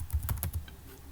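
A short burst of four or five keystrokes as C program code is typed on a computer keyboard, close and fairly loud, with a brief pause after and no speech.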